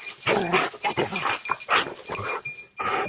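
A working search dog plays tug as a reward, giving close, loud bursts of growling and snorting in an uneven rhythm with short pauses, and a voice may be mixed in.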